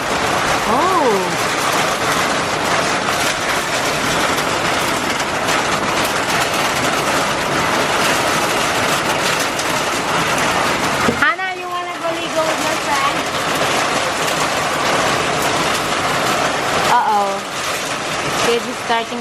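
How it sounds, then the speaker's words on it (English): Heavy rain pours down during a flooding day outside a Philippine sari-sari store, a dense, loud, continuous hiss with people talking over it and a brief drop partway through. "It's a pretty strong rain."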